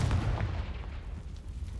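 Fiery blast spells cast in the Hogwarts Legacy video game, a heavy booming explosion at the start that rumbles on and slowly fades over the rest of the short clip.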